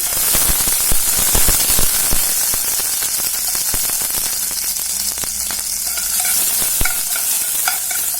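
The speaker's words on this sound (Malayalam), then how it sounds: "ഇനി അതിനകത്തേക്ക് നമുക്ക് ഒരു പച്ചമുളകും അതുപോലെ ഒരു 4-5 അല്ലി വെളുത്തുള്ളിയും കൂടെ ഒന്ന് ചെറുതായിട്ട് അരിഞ്ഞു വെച്ചിട്ടുണ്ട്, അത് ചേർത്ത് കൊടുക്കാം." Chopped green chili and garlic sizzle loudly in hot coconut oil in a pan, a dense steady frying hiss with sharp pops and stirring scrapes throughout.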